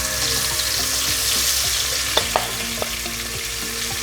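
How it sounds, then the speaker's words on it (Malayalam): Marinated shrimp fry in hot coconut oil in a pan, giving a steady, close, even sizzle that runs throughout with a few sharp crackles and pops. No one speaks. "ഇനി നമ്മൾ നേരത്തെ മാരിനേറ്റ് ചെയ്തെടുത്ത് വെച്ച ചെമ്മീൻ ഉണ്ടല്ലോ, അത് നമുക്ക് ഒന്ന് ഫ്രൈ ചെയ്തിട്ട് എടുക്കാം."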